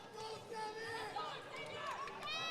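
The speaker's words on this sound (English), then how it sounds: "And I'm here listening to the crowd" Crowd at a boxing event before the final fight, a broad murmur of many voices with cheering swells throughout, a commentator's voice carrying over it.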